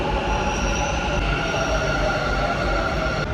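A metro train runs at speed on the way to Vijayanagar, giving a loud, steady rumble with a faint metallic wheel squeal throughout and no voices.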